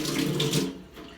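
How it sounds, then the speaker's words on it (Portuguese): Water poured into a pot of oxtail resting on a base of onion and tomato, a steady close splashing stream for most of a second that then cuts off, leaving a faint quiet tail. "Como nós vamos acrescentar água"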